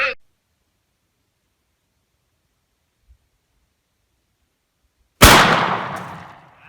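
A Russian shotgun with no recoil pad fires one loud, sharp blast at close range after a long silence, followed by a brief decaying echo.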